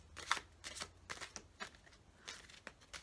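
Tarot cards being side shuffled in a few quick papery bursts, close by, with brief pauses between each shuffle of the deck.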